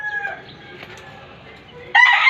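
A rooster at a game farm crows in a drawn-out call, fading low midway, then a louder, sharper burst at the end, close and clear with no talk.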